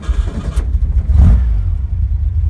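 A 1965 Volkswagen Beetle engine, from a car that had rolled over, fires up and settles into a steady low idle, rumbling loud and close with no talking.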